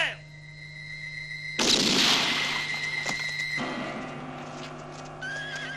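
A gunshot cracks out in a spaghetti western and rings with a long, bright echo, while a horse whinnies in the scene before and after the blast.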